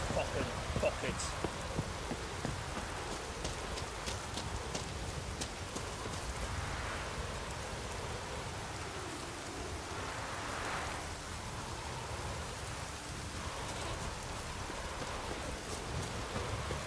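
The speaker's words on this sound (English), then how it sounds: "Raining fucking buckets." Heavy rain pours in The Witcher 3, a steady broadband hiss running unbroken for the whole stretch at a fairly constant level, with faint talk mixed in at times.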